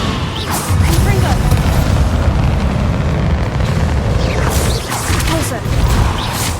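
Repeated blasting-spell explosions in the Hogwarts Legacy game, with booming bursts and crackling debris over a dense, loud rumble that continues throughout.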